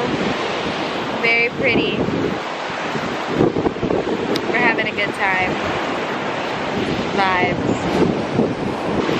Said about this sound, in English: So right now we're at the beach.